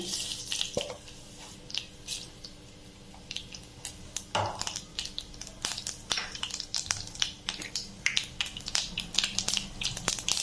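Mustard seeds crackle and splutter in hot oil for a Navratri prasadam rice dish, a dense run of sharp pops and sizzling bursts, close and steady throughout with no talking.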